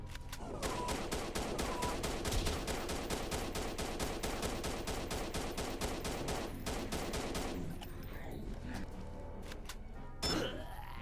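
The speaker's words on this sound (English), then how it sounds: "just move right or left, shoot it until you drain its health" Fast repeated gunfire aimed at a robot enemy in a simple video game, a steady rapid stream of shots that thins out near the end, leaving sparse scattered shots and a brief thud.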